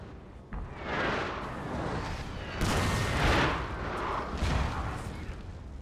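Napoleonic cannon and artillery fire in the strategy game Total War: Napoleon, rolling booms and distant volleys layered into a continuous battlefield roar at moderate level.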